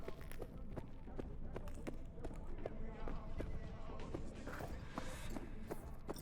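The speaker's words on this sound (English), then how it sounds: "Yeah, my footsteps are loud." Footsteps of the player character in the video game Cyberpunk 2077, a steady run of loud, regular thuds repeating through the whole stretch over game ambience.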